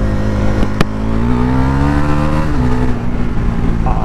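Bajaj Pulsar NS400Z 373cc motorcycle accelerating through the gears, a loud close engine note rising in pitch with brief dips at shifts and a couple of sharp clicks near the start, no talking.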